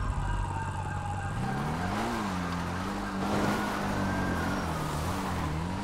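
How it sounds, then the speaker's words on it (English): Police sirens wail continuously with rising and falling pitch sweeps, loud and close, layered over steady traffic and engine rumble on a busy street. "I hear a lot of sirens, my guy."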